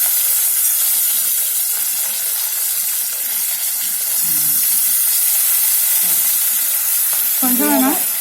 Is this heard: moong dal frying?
yes